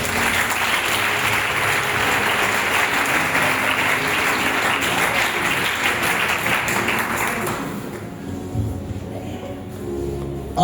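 A congregation at a spiritual retreat applauding to acclaim the Lord, dense sustained clapping from many hands that fills the room, then fades out abruptly near the end, leaving a quieter murmur.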